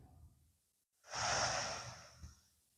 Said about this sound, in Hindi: लंबी गहरी सांस भरें